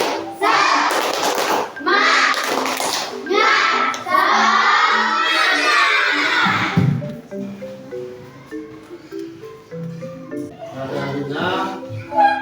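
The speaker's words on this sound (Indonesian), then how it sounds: "Coba tepuk semangat." A school class performs the rhythmic 'tepuk semangat' clap chant, with bursts of group clapping and children's voices chanting along loudly and close, followed by quieter background sounds.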